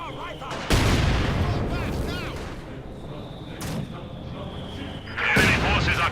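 Artillery shells land in a Company of Heroes 2 match, with several heavy booming impacts spread across the clip. The blasts stand out sharply over ongoing battle noise.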